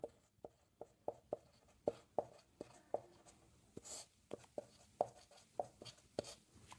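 Pen or chalk writing out trigonometry working, a run of sharp, evenly spaced taps and short strokes, close and fairly quiet, with no talk over them.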